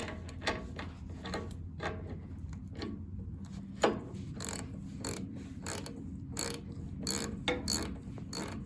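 Ratchet wrench tightening a bolt on a Cub Cadet 147 mower deck subframe, heard as a series of short clicking ratchet strokes close by at a moderate level over a low background hum.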